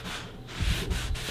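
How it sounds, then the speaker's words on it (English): Plastic car trim being rubbed by hand to clear white stains, a brief, soft, close scrubbing sound with a couple of rough strokes. "you just rub a little bit, the white stain goes away"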